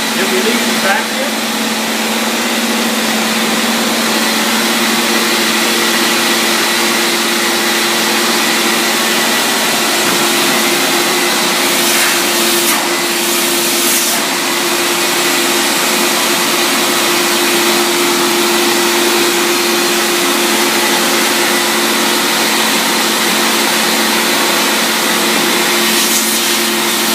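A Namco high-pressure tile and grout cleaning machine runs its vacuum with a loud, constant motor drone and a steady whine, unbroken throughout.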